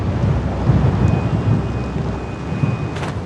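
Blizzard winds roar through a spring storm in Mongolia's Gobi desert, a loud, steady rumbling gust with no break, carrying a rushing, rain-like wash of noise throughout.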